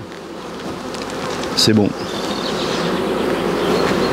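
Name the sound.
honey bees buzzing in a hive super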